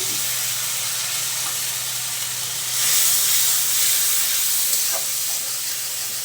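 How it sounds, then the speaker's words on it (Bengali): A little water poured into hot frying spice masala for a fish curry, giving a steady loud sizzle and hiss that swells briefly midway before settling, no voices. "এখন দিয়ে দেবো সামান্য একটু পানি।"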